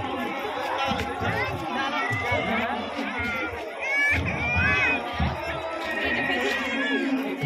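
A large outdoor crowd bustles, with dense overlapping voices forming a continuous babble, occasional louder shouts and calls rising above the hubbub.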